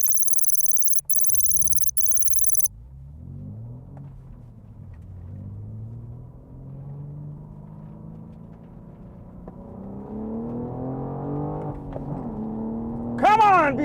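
A 2021 BMW M4 manual and a 2021 Toyota Supra GR accelerate side by side in a roll race, with engines droning and rising steadily in pitch through the gears and a sharp high note near the end, while people talk over it.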